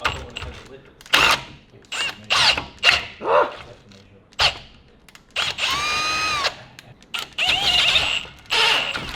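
A Milwaukee power drill whines in repeated short bursts, straining and catching as it struggles to drill something out during a coilover install on a Holden Commodore VY Turbo, with a dog barking intermittently between the mechanical grinding.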